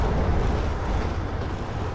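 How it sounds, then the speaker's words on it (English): Wind howls through Amnesia: The Dark Descent, a steady, loud broadband rush with a deep rumbling low end that never lets up for the full two seconds, with no voices over it. "all this wind in a place that shouldn't be windy, that is kind of crazy"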